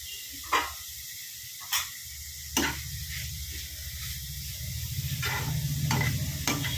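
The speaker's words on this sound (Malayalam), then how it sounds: "നമുക്ക് ആ ചീര അങ്ങോട്ട് കൊടുക്കാം ചീര ചെറുതായിട്ട് എടുത്തത്" Finely chopped spinach stir-fried in a hot pan: a steady sizzle runs throughout, broken by several sharp scraping stirs of the spoon against the pan, close and fairly quiet.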